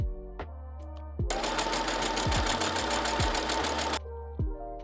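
A sewing machine stitches the side seams of kids' top bodices and facing in one continuous loud, close run of rapid needle rattling, bracketed by sharp clicks and knocks before and after.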